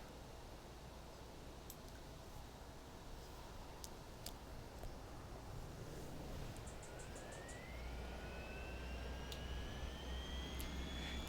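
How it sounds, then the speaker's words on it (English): A steady broadband whine and rush of a Boeing 737-800 auxiliary power unit spooling up in a flight simulator, with the hum rising slightly and thin tones gliding upward near the end, alone without talk. "Let's listen to this APU fire up."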